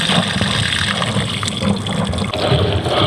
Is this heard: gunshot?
no